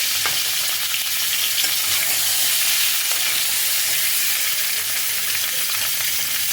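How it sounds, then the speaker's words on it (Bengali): Eggs fry lightly in oil in a pan for a steamed egg curry, giving a close, continuous sizzle with faint crackles and no talking. "এবার ডিমগুলোকে হালকা করে ভেজে নিতে হবে।"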